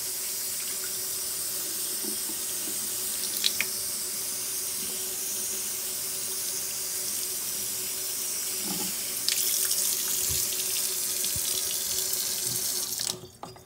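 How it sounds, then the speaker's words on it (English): Pinto beans rinsed under a running kitchen tap in a sink, a steady hissing water stream lasting the whole time with occasional faint clinks and shifts of the beans, ending as the flow cuts off. "Rinse the beans."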